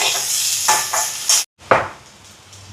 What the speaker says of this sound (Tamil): இப்போ பாருங்க வெங்காயமெல்லாம் நல்லா வதங்கி வருது